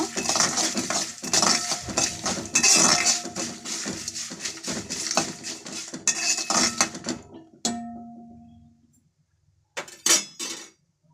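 Metal utensil scraping and clinking inside a pot of rasam while salt is stirred in, repeated stirring strokes up close, then a brief pause and a few final clinks.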